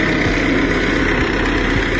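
A tractor engine runs steadily at close range while soil beds and water channels are being formed in a field, a continuous low rumbling drone with no pauses and no voices.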